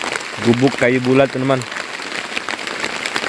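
Heavy rain pours steadily on a wooden log shelter hut, a constant hiss under a man's nearby speech.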